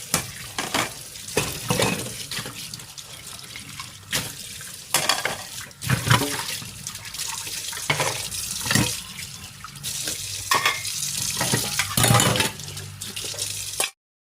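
Washed dishes rinsed under a running tap at a kitchen sink in a village home, with a steady splash of water and frequent clinks and clatters of utensils nearby, continuous throughout with no talking.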